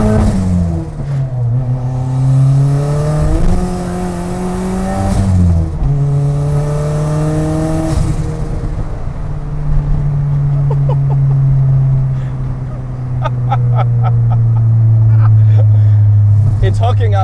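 A tiny pickup truck with a turbocharged 4G63 Eclipse engine accelerates hard through several gears, loud rising engine pitch with shifts and turbo whine, while a person talks over it.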